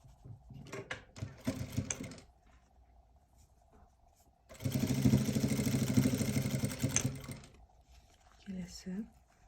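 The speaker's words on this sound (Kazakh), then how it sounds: "Қазір мен бұны бір цепочкамен тігіп шығатын боламын." A sewing machine runs a chain stitch joining fabric pieces, a short burst early and a steady louder stretch of whirring mid-clip, with quieter gaps and someone speaking in between.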